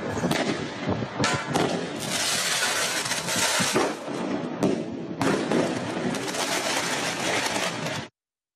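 Fireworks launcher firing at an embassy building in Kyiv, rapid crackling bursts and loud popping shots in a dense, continuous barrage that cuts off abruptly at the end.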